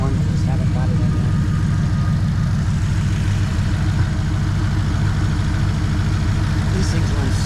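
A hot rod car engine idles steadily and smoothly nearby, a continuous low rumble with even pulsing that holds throughout without revving.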